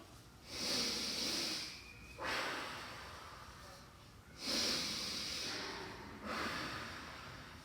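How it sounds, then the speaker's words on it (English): Slow, deep breaths in and out during a calming self-regulation exercise: two full inhale-exhale cycles, each a long soft airy rush of several seconds with no voice over them. "we're going to take a nice, big, deep breath in"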